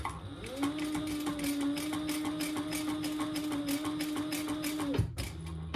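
A sewing machine runs steadily for several seconds, stitching the seam of a crossbody phone bag. It whirs with a rapid regular needle rhythm, stops abruptly with a soft clunk, and no one talks.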